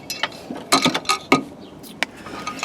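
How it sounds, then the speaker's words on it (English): Ratcheting and clicking from a hand tool as a screw is backed out of a Ktuned shifter box in a K20 hatch, a quick run of sharp mechanical clicks with a few louder snaps, close up and without talking. "let me take this screw out right here"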